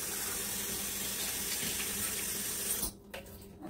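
Tap water pours steadily into a small cooking pot holding four medium tomatoes and two serrano chiles, a continuous close hiss and splash that cuts off abruptly near the end, leaving a few faint drips and clinks.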